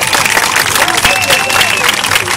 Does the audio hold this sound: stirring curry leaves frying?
no